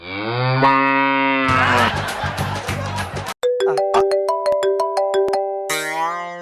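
A phone ringtone made from buffalo mooing, with long, loud tonal lowing calls, then a burst of noisy chatter, a brief cutoff, and a run of bright, bouncy electronic tones, all up close and with no talking.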